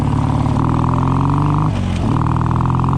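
A car engine runs while driving, a steady close drone with a strong low hum that dips briefly near the two-second mark before settling back to an even pitch.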